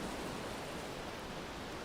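Ocean surf rolls over a pebble beach in a soft, steady broadband wash, faint and continuous with no voices.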